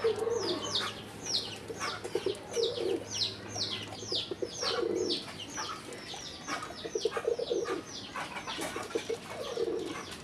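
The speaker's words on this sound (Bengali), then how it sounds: "মাশাআল্লাহ দর্শক, বিগ সাইজের বড় পায়রা" Large pigeons of a big-size breed cooing repeatedly in soft, rhythmic rolling calls, with other birds chirping in the background of a loft; no one speaks.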